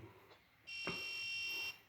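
A piezo buzzer on a microcontroller circuit with an LDR light sensor, triggered when the sensor is covered and goes dark, sounds one steady high-pitched tone for about a second, loud and clear over faint room noise.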